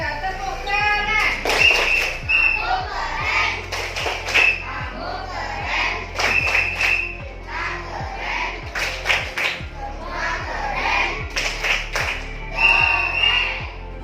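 A classroom of students performs the rhythmic 'tepuk keren' clapping chant, sharp claps in quick patterned bursts mixed with voices chanting and shouting together, fairly close and loud.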